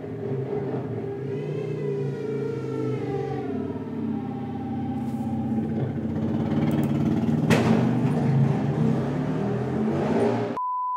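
A car engine revs in the Animal Crossing video game, a sustained droning tone with rising and falling pitch sweeps, loud and continuous, ending with a few sharp accents.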